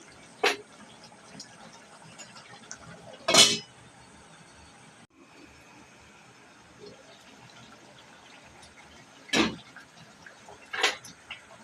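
In a home kitchen making malai chicken, a lid is set back on a cooking pot, giving a few short, sharp metallic clinks and clatters spread apart over a quiet background.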